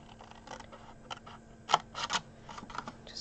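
Card is cut for a chocolate gift box, a run of clicky, tapping cuts with one sharper snap in the middle, close and moderately loud over a faint steady hum.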